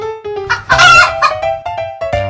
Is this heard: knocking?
no